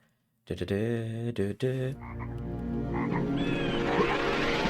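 Frogs croak in the PS1 game MediEvil, a short run of loud, close, deep croaks after brief silence, then a busier stretch of overlapping croaks and chirps layered with game music.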